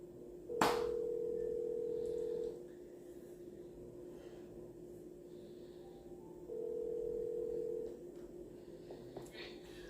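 A telephone line tone sounds as two long, steady low beeps separated by a silent gap, moderately loud over quiet room background with a sharp click at the start.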